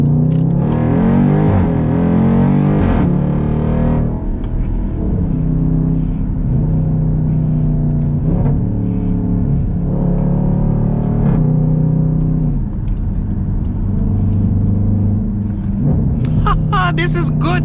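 A 2019 Dodge Durango SRT floored from a stoplight, its engine rumbling and rising steadily through the gears from inside the cabin, with people talking over it.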